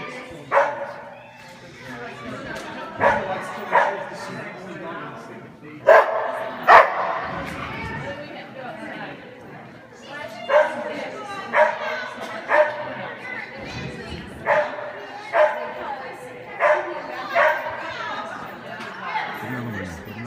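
A dog barks in quick yips and woofs during a USDAA jumpers agility run, the barks coming in a steady rhythmic series while a handler talks and praises over them.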